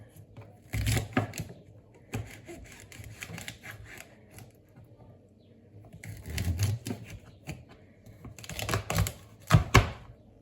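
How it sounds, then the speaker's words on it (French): A knife chops green asparagus into pieces on a cutting board, making quick clusters of sharp knocks with quiet stretches between them, close and moderately loud. "Et ensuite, je coupe ce qui me reste en tronçons."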